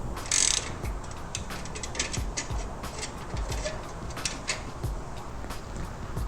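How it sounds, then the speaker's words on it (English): A ratchet loosens a 9/16 muffler clamp bolt on a Harley-Davidson Forty-Eight Special, giving a close, steady run of quick metallic clicks with a sharper burst at the start. "Now I'm going to loosen the 9/16 muffler clamp bolt from the front."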